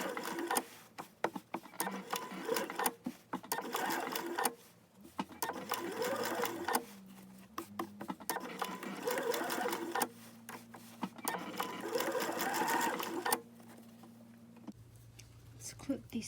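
A sewing machine stitches a tote bag made from a T-shirt, running in close bursts of rapid whirring broken by brief pauses, with a person talking quietly between the runs.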